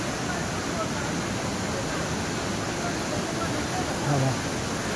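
A river rushes near a footbridge. The broad, steady roar of water runs unbroken throughout, with a faint low thump near the end.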